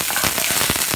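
Mustard seeds and dal splutter in hot oil in a kadai while tempering for tomato rice, a dense, loud crackle of rapid popping close up, with no voices.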